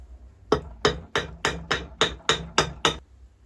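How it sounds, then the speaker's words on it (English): A rubber hammer taps the end piece of a floor jack's hydraulic cylinder, nine evenly spaced, close, solid knocks in a steady rhythm with no talking. "I could probably even use my rubber hammer."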